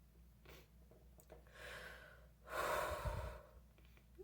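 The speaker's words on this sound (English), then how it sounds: "I need to blow my nose." A person blows their nose close to the microphone: a quiet breathy snort, then a longer, louder forceful honk, set against a soft background hum.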